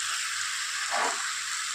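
Chicken curry cooks over a high flame, giving a steady, bright frying sizzle with a brief swell in the middle, close and continuous without speech.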